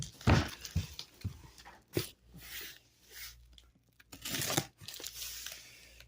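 Crinkly tearing and crumpling bursts as bubble wrap is pulled off a comic book shipment packed box-in-box, with loud close rustles separated by brief pauses.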